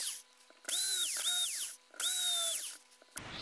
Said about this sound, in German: So, jetzt sind die Löcher soweit gebohrt.